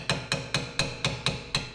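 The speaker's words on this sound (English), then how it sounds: "try and get it manually moving using a hammer and our flathead" Eight evenly spaced metallic hammer blows ring out on a stuck rear brake caliper of a 2008–2021 Grand Caravan, each strike sharp and close with a brief ringing decay.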